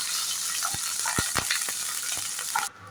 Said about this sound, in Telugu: 2 టేబుల్ స్పూన్ నూనె పోసుకొని అందులోకి వేరుశనగపప్పు జీడిపప్పు వేసి ఫ్రై చేసుకోవాలి